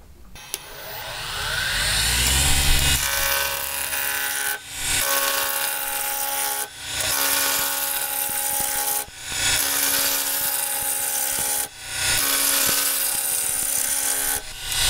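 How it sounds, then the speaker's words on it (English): A spindle roughing gouge cuts a black walnut blank into a cylinder on a wood lathe, giving a steady, loud scraping and rushing tone broken by several brief pauses as the tool is lifted and repositioned, with no speech. "I'm going to take my spindle roughing gouge and turn this into a cylinder."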